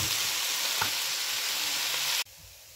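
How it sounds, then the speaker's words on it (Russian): Food fries in a large home frying pan, giving a loud, steady crackling sizzle with a few small pops that cuts off abruptly near the end, leaving quiet room tone. "О, как хорошо пожарила моя сковородочка."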